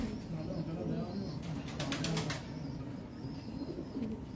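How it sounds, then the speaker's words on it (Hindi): Pigeons coo softly in low, rolling calls, with a brief burst of wing flapping in the middle and faint background chatter. "खुरम भाई के पास भी बड़े अच्छे कबूतर हैं"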